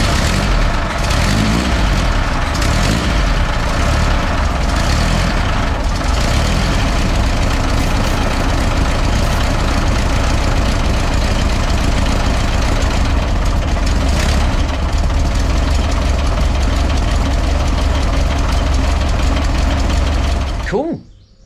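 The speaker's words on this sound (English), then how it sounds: "let's get this thing fired up and see how different it sounds with the muffler on it" Volkswagen Bus engine fitted with a new muffler, idling steadily and loudly for about twenty seconds with a low, even air-cooled rumble, then cutting off abruptly at the end; a voice talks briefly near the start.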